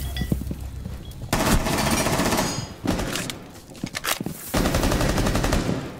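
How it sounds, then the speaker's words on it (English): Rapid automatic gunfire from a Rainbow Six Siege match, loud and close, coming in dense bursts with short pauses between volleys and no talking over it. "I shot that bitch in the head"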